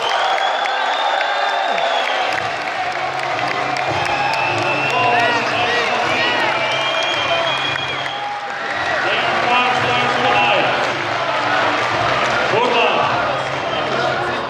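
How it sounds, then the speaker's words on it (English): An arena crowd at a CS:GO world championship match between France and Poland claps and cheers for the Polish team, a steady wash of applause carrying under an announcer's amplified voice. "Big round of applause for them as well."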